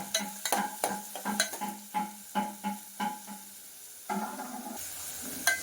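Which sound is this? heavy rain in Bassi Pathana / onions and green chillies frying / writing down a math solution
onions and green chillies frying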